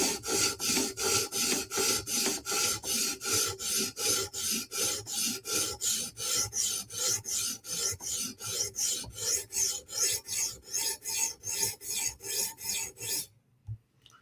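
A Spyderco Military 2 folding knife with a 15V steel blade is sharpened on a stone, giving loud, steady rhythmic rasping strokes about two per second, close up, before stopping abruptly near the end.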